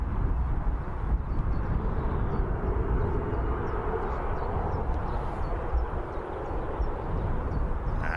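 Airliner departing Birmingham Airport for Ibiza, a broad steady roar of jet engines held at a constant level, distant but loud, with no speech over it.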